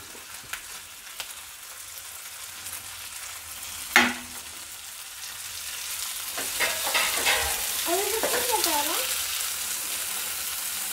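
Garlic cloves and tomatoes fry in a pan for a Kolhapuri vegetable dish, with a soft, steady sizzle that swells in the second half, a sharp clatter of stirring near the middle and faint spoon scrapes.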